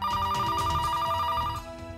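Telephone bell ringing in a rapid, steady electronic trill that stops near the end, set over background music, with no talk.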